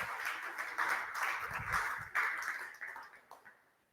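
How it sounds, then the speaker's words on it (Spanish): An audience claps in a dense burst of many hands, loud at first and thinning out over a few seconds. "los que están conmigo aplaudan"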